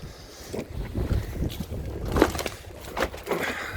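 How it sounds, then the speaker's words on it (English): Gusty wind buffets the microphone with low rumbling bursts and rustling, loud and uneven throughout. "Sorry, it's really windy out here."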